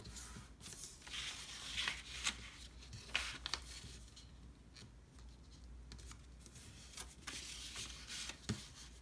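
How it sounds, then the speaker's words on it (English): Paper corners being folded and creased for an origami pencil holder, soft crinkling and rustling in quiet, close bursts over several seconds. "We are going to do the same fold with the other 3 corners."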